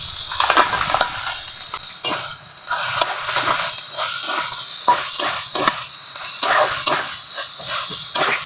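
Crabs cooked with coconut in a village kitchen hit a hot pan with a loud, busy hiss and spitting sizzle, cut through by irregular clattering pops and scrapes as they settle and are stirred.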